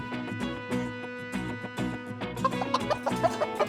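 Cartoon chickens cluck in quick, bright bursts, several clucks tumbling over one another, ending in a flurry of short, higher calls.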